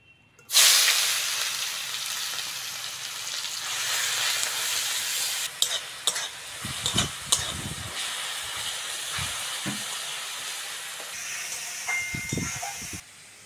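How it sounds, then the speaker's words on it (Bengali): Grated onion sizzles steadily in hot oil tempered with dried red chilli and five-spice, salt added, a continuous frying hiss with scattered stirring clatters and scrapes near the end. "পেঁয়াজটা হালকা করে ভেজে নিয়েছি"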